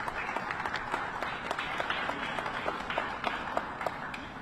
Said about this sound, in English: Let's give them a round of applause also.